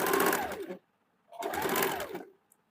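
A sewing machine stitches a border strip onto a blouse in two close, loud bursts of steady whirring, each just under a second, separated by a short pause.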